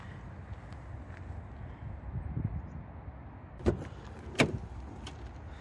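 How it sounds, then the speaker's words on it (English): A BMW 740i's bonnet is lifted to expose the V8, heard as two sharp latch clicks and clunks in quick succession over quiet background noise. "We will lift up that bonnet to look at that V8."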